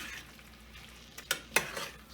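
Eggs and chips for chilaquiles are stirred in a frying pan, giving soft sizzling under a few sharp scraping clicks of a utensil against the pan near the end.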